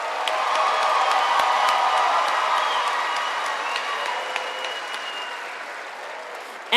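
Audience applause for a group of graduates at a 2023 high school commencement ceremony, a dense sustained wash of clapping from a large crowd with scattered whoops, gradually fading.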